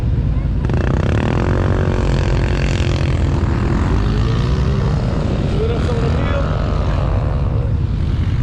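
Engine of an ATV riding a sand pit trail in Pageland, South Carolina, a steady loud drone with shifting pitch that runs through the whole stretch, with wind-like roar on top.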